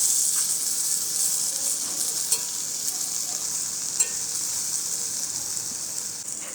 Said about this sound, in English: I think our garlic is brown now. Give that a good swirl.